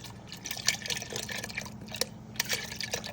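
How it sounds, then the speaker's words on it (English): A quart of half and half is poured into a pot of shrimp and crawfish soup, giving a steady liquid pour with small splashes and drips, moderately close, with a low hum beneath and no talk. "We're gonna go in with 1 quart of half and half."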